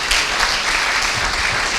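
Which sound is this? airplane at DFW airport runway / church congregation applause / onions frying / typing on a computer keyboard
church congregation applause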